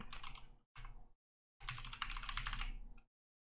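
Fingers typing on a computer keyboard while filling in a Pipedrive CRM sign-up form, three quick bursts of close, crisp key clicks separated by short silences.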